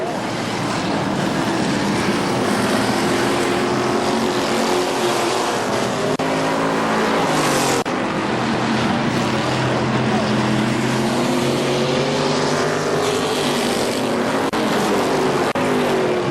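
Race cars battle down the backstretch at KilKare Speedway, a loud sustained engine roar with shifting pitch as the field sweeps by, and an announcer faintly calling the race beneath.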